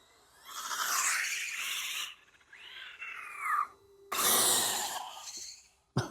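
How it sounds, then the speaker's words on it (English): Rlaarlo XTS S10 RC car tires squealing in several loud, high-pitched bursts, including a rising and falling screech, with short gaps between runs. "Hear these tires squealing?"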